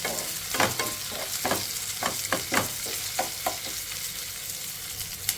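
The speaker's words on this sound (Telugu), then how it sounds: "ఇప్పుడు ఈ ఉల్లిపాయ ముక్కల్ని 1 నిమిషం ఇలా కలుపుకుంటూ ఫ్రై చేసేసుకోవాలి" Onion pieces stir-fry in a pan, a continuous sizzle broken by repeated scraping strokes of a spoon in an uneven rhythm, close and alone without talk.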